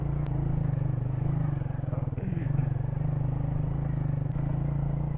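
Motorcycle engine running steadily near a forest track, a low continuous throbbing drone that persists throughout, with brief clatter and faint voices in the background.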